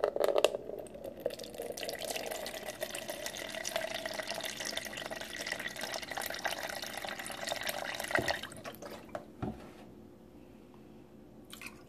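Half a cup of chicken broth poured into a pot of water and leftover rice, a steady close trickle and splash that tapers off into drips.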